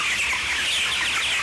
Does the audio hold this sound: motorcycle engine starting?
no